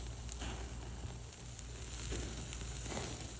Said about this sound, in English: So they will go in a pan with butter.